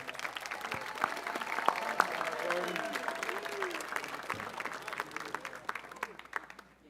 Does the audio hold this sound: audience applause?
yes